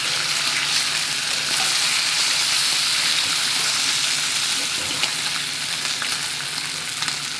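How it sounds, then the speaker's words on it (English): Steady, dense sizzling of smoked bacon frying in a hot pan, continuous and close throughout with no pauses. "See the caramelization going on around the outside? Doesn't take long to get a really nice fry on these."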